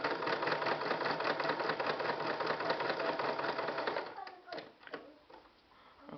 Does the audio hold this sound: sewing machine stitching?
yes